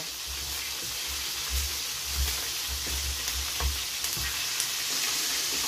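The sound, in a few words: carrots and cabbage frying for pancit bihon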